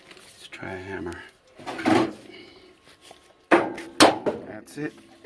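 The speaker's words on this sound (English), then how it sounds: "Let's try a hammer." Several sharp hammer blows on metal ring out while installing power steering on a 1966 Ford Mustang, a couple of close bangs in quick succession, with a voice talking between them.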